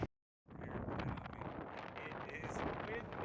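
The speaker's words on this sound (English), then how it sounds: "It is windy." Steady, blustery wind buffeting the microphone on an open Wyoming road near Laramie, a continuous broadband rumble and roar that starts abruptly after a brief silence and stays loud throughout.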